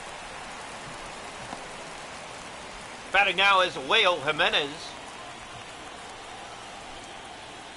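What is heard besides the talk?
rain falling in MLB 24 baseball video game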